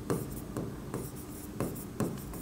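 A pen scratches on paper in short, rhythmic strokes, a few sharp scribbles every half second, close and quiet with no talk over it.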